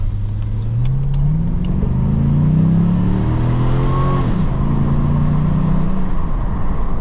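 A Holden VX SS ex-police car with an LS1 V8 and a mild aftermarket exhaust, loud and close, with a deep rumble rising and falling through several revs before settling into a steady, throaty idle-like drone.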